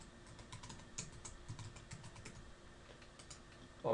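Keys tapped on a computer keyboard while a password is entered during an email account sign-up, a steady run of close, quiet clicks with a louder thump at the very end.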